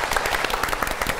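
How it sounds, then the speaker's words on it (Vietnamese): Brief burst of audience clapping at a lively entertainment show, close and energetic, filling the short moment with dense hand claps and no speech on top. "Rồi, một tràng pháo tay cho Uyên nha."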